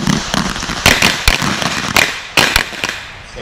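Pistol shots crack out in quick pairs and singles during a police firing range drill, loud and close with sharp echoing tails, spread irregularly across a few seconds.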